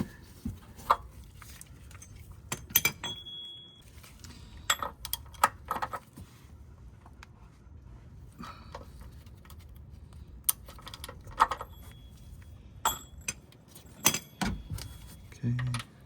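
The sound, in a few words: oil filter wrench on Lexus ES 350 oil filter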